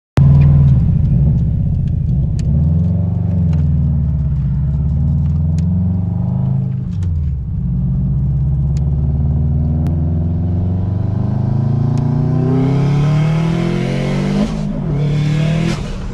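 A turbocharged Subaru WRX accelerating hard from inside the cabin, a loud sustained engine rumble climbing steadily in pitch through the gears over about sixteen seconds, with brief dips at shifts and a hiss of boost near the end; no one talks.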